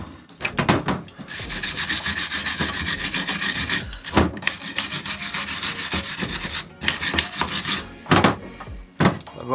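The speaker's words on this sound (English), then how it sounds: "So you want to really give it a good old clean around the piston." Steady, raspy scrubbing around the piston of an AP Racing brake caliper during a rebuild, loud and close in long continuous strokes with a few brief pauses.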